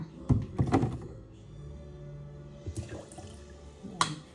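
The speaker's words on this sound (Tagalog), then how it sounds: "So, lagyan natin ng suka na kalahating cups." Vinegar poured into a water kettle to remove calcium scale, giving short liquid splashes and hollow thunks of the container near the start, a quieter stretch, then another brief knock and splash.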